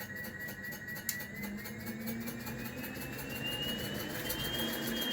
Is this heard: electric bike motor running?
yes